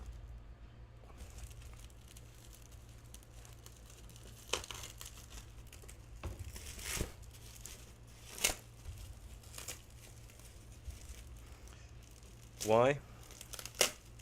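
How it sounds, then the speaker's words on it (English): A Beyblade X Beymail package being unwrapped: close, sporadic crinkling and tearing of plastic wrap with sharper rips, over a low hum and brief speech. "Sorry if the sound of this being unwrapped is horrible through the microphone."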